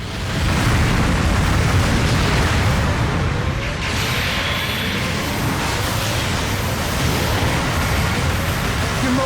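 A mobile suit being destroyed in Gundam Battle Operation 2, heard as a loud, dense, continuous roaring explosion and rumble that fills the whole stretch without letting up.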